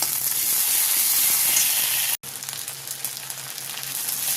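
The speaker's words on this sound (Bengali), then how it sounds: "মশলাটা একটু ভাজা ভাজা হবে।" Onion, cumin and ginger paste frying in hot oil gives a steady, loud, dense sizzle throughout, broken by one brief dropout midway before the hiss resumes.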